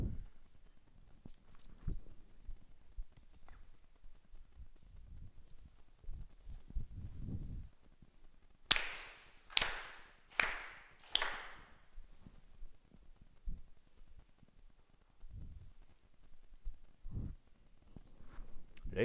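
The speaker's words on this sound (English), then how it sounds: "4 sincere claps." Four sharp, evenly spaced ritual handclaps ring out in a quiet hall during a Konko New Year's service, each crisp and resonant against near-silence, with faint rustling and low murmurs before and after.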